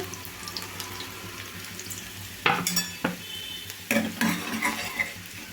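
Chopped garlic pieces sizzle in a pan in a home kitchen, a low steady fry broken by a few sharp clanks and scrapes of stirring, with running water faintly mixed in.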